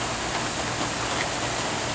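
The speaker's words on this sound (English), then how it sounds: "hear the rain" Steady rain falls outdoors, a dense even hiss of drops hitting surfaces that stays constant and fairly loud with no voices.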